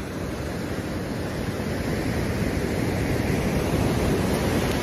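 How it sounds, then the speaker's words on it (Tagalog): Ocean waves along the Zambales shore, a steady broad wash of surf noise with wind buffeting the microphone, continuous and fairly loud with no voices. "Alon."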